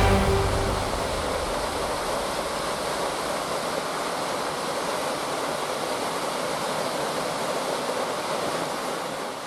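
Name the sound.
waterfall on a rainforest hiking trail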